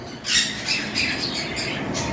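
Harsh, raspy bird squawks repeat in short bursts, loud and close, over a steady hiss of background noise.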